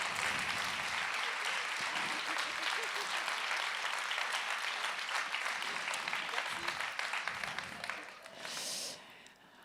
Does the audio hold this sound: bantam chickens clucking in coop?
no